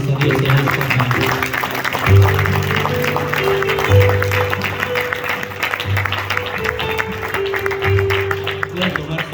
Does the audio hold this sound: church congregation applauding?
yes